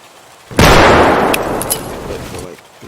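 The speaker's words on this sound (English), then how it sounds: "try to kill him with a grenade" A grenade goes off in the driving survival game Highway 2 Die: one sudden loud blast with a long rumbling, crackling decay over about two seconds, and a couple of sharp pops inside the tail.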